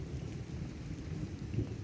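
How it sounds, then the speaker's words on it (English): Steady rain with deep rolling thunder over countryside, a dense low rumble filling the short stretch with a brief louder swell near the end and no voices. "I find the noises that accompany the rain really exciting, like the roaring sky, the droplets of water on the ground, the swaying trees,"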